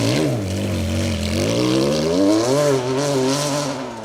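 A Porsche Boxster rally car on a forest stage, engine climbing through revs as it accelerates past, loud and close, with a throaty rasp and small pitch dips between gears.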